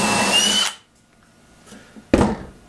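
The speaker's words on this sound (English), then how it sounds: "so I thought I should use the bigger drill" A cordless power drill whines briefly as it bores into a 4x4 piece of softwood, stops, then a short burst of drilling noise starts again after a quiet pause.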